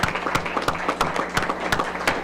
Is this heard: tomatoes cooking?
no